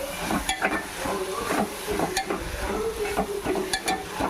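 Gongura and egg curry masala frying in oil, stirred with a spoon: soft bubbling sizzle punctuated by frequent scraping and tapping strokes at an uneven pace, close and moderate in level, with nobody talking.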